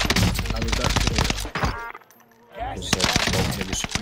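Gunfire on the Caldera map of a video game: dense, rapid bursts of automatic fire, loud and close, broken by a short lull before the shooting resumes.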